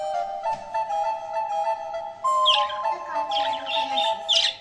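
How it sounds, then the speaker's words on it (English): Pet budgies chirp and tweet in quick, bright, overlapping calls, close and fairly loud, with no one talking. "Who does not want to be friends with the cute little pet budgies?"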